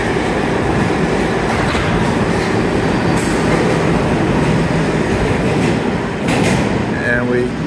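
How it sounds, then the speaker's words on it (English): A 7 line subway train rolls into a station on a CBTC-signalled line with a loud, steady rumble of wheels on rail, some squealing near the end, and someone speaking over it. "And here comes the fourth train."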